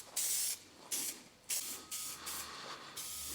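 Wax and grease remover hisses from a spray can in a series of short, faint bursts, about six of them, each a second or less, with brief pauses between.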